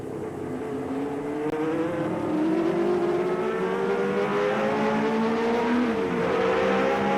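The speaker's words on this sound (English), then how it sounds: "The 2 Ligiers take us on a lap with their onboard cameras." Two 1979 Ligier Formula 1 cars lapping the Monaco street circuit, loud high-revving engine howl with rising harmonics through gear changes and a sharp drop near the end, continuous and close.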